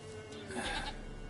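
A goat bleats in The Witcher 3, one brief, fairly faint wavering call rising out of low ambient game background, no talk over it.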